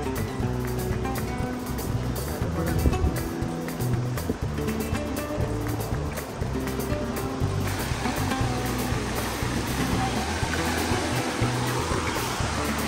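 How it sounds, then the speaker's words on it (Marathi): A boat on the sea near Suvarnadurga fort, its engine droning steadily with water washing and splashing around the hull, loud and continuous throughout. "आत्ता इथे बोट आली आहे"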